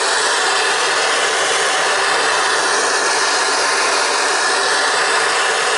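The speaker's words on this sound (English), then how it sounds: "Notice I tilt my torch" A torch roars loudly and steadily while heating a crucible for casting a silver ingot, giving one unbroken, close hiss with no pauses.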